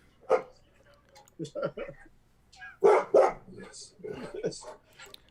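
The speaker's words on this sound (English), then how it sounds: "my dogs are going crazy now" Several dogs bark in short excited bursts, some high yips among them, loud and close with gaps between, while people talk nearby.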